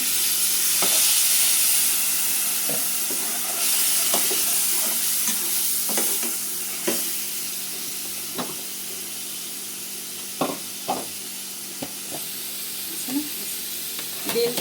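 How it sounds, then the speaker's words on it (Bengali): Onions fried until red sizzle steadily with spices in a pan for a prawn do-pyaza curry, with a soft frying hiss throughout and scattered scraping and clinking of a spoon as it is stirred. "এখন লাল লাল করে পেঁয়াজটা ভাজা হয়েছে, আমি এখন একটু হালকা পানি দিয়ে বাকি মশলাটা দিব"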